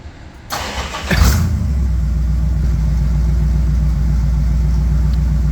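A Bombardier engine catches after a brief cranking burst, then settles into a loud, steady, low idling rumble close by that holds evenly to the end.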